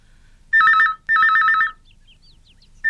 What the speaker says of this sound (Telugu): ఫోన్ రింగ్ అవుతూనే ఉంది బామ్మ